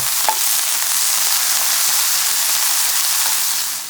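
Shishito peppers stir-fried after starch water is poured in, a steady loud sizzle hissing continuously with faint scraping stirs, no voices.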